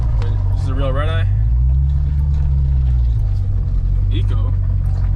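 Dodge Charger Redeye with a fault struggling up a driveway, a loud deep engine rumble swelling and easing close by, with excited voices talking over it.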